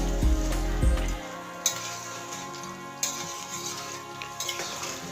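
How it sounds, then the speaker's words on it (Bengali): Water hits a pan of frying spiced new-potato curry, a loud hiss at first, then settling into a steady, softer sizzle with occasional sharp pops. "তাই এখানে আমার পরিমাণ মতন জলটা এখানে অ্যাড করে নিলাম"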